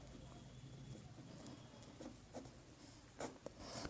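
A class 10 maths lesson on paired linear equations in two variables, with faint scratchy writing on a board or paper and a few brief sharp strokes over low room noise.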